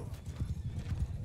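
Horses in a video game battle between a bandit kingdom and Amir Timur's forces, with dense, rapid hoofbeats drumming in a steady gallop, fairly faint under a low rumble and with no clear neighing or talking.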